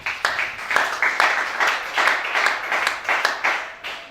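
A church congregation at a French-language worship service claps in a steady rhythmic beat, about two claps per second, moderately loud and without talk.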